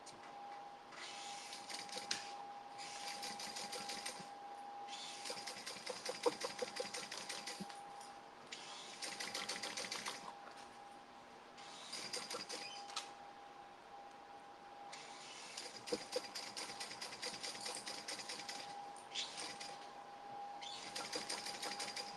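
A sewing machine top stitching and basting a summer tote bag runs in steady bursts with short pauses between them, whirring continuously at moderate volume with no talking.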